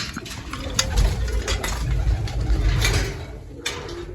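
Female pigeons being let out of their loft give low cooing and rustling over a steady rumble, with a few sharp clicks and knocks scattered through and no talk.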